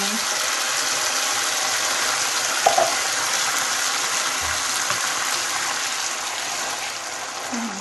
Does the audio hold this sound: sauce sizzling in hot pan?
yes